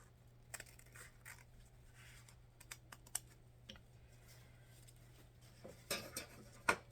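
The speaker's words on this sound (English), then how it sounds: "And now I'm going to cut that off." Scissors snip through ribbon while a Christmas bucket bow is made, heard as a few quiet, sharp clicks spread out over soft room noise, with louder snips toward the end.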